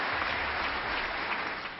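Dense applause filling the US Congress chamber, a steady, loud roar of many hands clapping without a break for the full short stretch.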